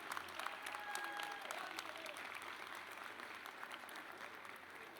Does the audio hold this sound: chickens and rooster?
no